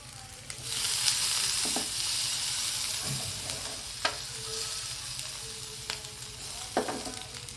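A burger patty sizzles steadily in a pan, a continuous frying crackle broken by a few sharp clicks and scrapes as it is moved or flipped, with no talking.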